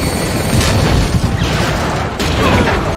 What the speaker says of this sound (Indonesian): pesawatnya jatuh dan meledak